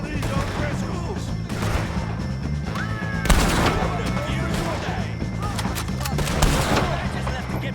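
Gunfire in the video game Red Dead Redemption 2, loud repeated shots and bursts over a dense, noisy battle mix, with voices shouting among them.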